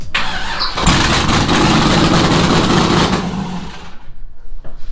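A rally Camaro project car's engine cranks and fires into a loud, rough, sustained roar, then cuts out into sputtering, uneven pulses near the end.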